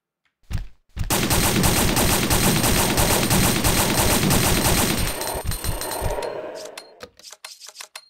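Rapid automatic gunfire in Resident Evil 2, a loud sustained burst of several seconds that tapers into scattered shots and clanks toward the end.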